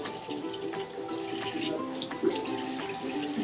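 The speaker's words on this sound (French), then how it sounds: "Moi, je vais utiliser le jet, mais je vais essayer de diminuer la pression." A shower jet running lukewarm water at reduced pressure, a steady close hiss and splatter with small fluctuations and no talk.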